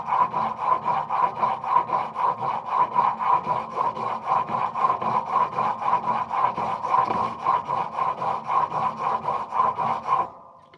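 A chisel is rubbed back and forth on a whetstone in quick, regular strokes, making a close, rhythmic gritty scraping that continues for about ten seconds before stopping.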